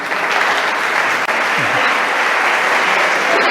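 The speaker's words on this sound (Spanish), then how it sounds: "Un aplauso para Germán." Loud, close applause from a congress audience welcoming a speaker at a medical conference panel, a dense, even wash of clapping lasting the whole stretch with a brief dip partway through.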